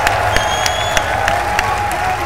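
A large crowd at an Ultra Street Fighter IV fighting game tournament, EVO 2015, cheers and applauds in a steady, dense roar with scattered claps and whoops throughout.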